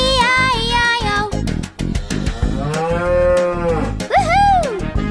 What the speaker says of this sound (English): on his farm he had a cow, E-I-E-I-O. With a moo-moo here and a moo-moo there